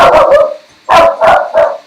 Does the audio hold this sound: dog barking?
yes